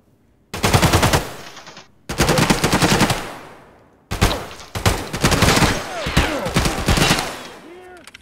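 Gunfire in the video game Escape from Tarkov: loud, close bursts of automatic fire come in three long volleys, the last one choppier with shots trailing off. There is no talk.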